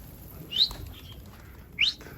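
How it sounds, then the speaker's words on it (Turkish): Two short bursts of wing flapping from a Mardin pigeon in flight, each brief and fairly faint against a quiet outdoor background, about a second apart. "Arkadaşlar kuş güzel uçuyor."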